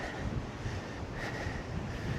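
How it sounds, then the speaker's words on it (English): Strong storm wind buffets the microphone outdoors in the Northamptonshire countryside near Crick, a low, continuous roar, steady and fairly faint throughout. "it is seriously windy because of Storm Dave"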